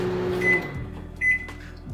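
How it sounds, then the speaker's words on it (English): A microwave oven heating a small meatball mixture sample for frikadeller hums steadily with a low tone, with short beeps near the start and a second tone partway through, close and without speech. "microwave it for 15 to 20 seconds until it's cooked"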